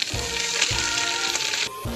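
Fish frying in hot oil in a wok gives a loud, steady close sizzle with a brief break near the end, with no voices.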